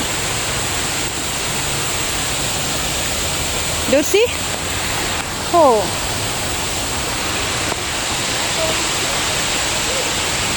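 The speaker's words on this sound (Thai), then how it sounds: "น้ำตกสวยมากเลย" A forest waterfall pours in a constant, full hiss that fills the whole scene, while a voice speaks briefly over it.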